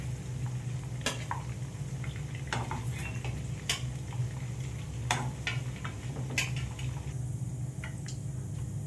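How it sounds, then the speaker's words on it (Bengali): Lightly fried mutton koftas lifted one at a time from a frying pan: a steady oil sizzle runs throughout, broken by sharp metallic clinks and scrapes of a utensil against the pan. "কোপ্তাগুলো হালকা ভাজা হয়ে গেছে, এবার আমি একটা একটা করে তুলে নিচ্ছি"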